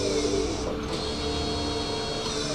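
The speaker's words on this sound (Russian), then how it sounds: "Ёбаный, сука, принтер." An office printer runs steadily with a continuous mechanical whir and hum, fairly close and alone, holding an even level throughout.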